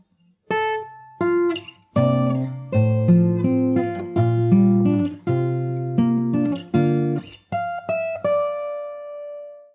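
Plucked fingerstyle guitar notes ring out in a melodic phrase from the Animal Crossing New Horizons theme over low bass notes, played cleanly with no voices, the last note fading out.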